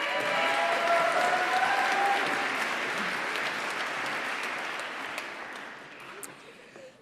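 A large audience at a SUNY ESF December 2022 commencement ceremony claps for graduating Environmental Studies seniors, with dense, sustained applause that gradually fades toward the end.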